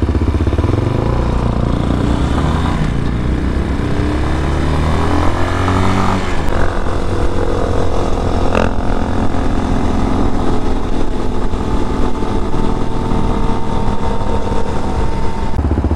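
Steady, loud engine running of a 2022 Peacesports Brozz Recon 250 or DRZ400sm motorcycle, idling with an uneven, wavering note and a rise in revs partway through, continuous and close throughout.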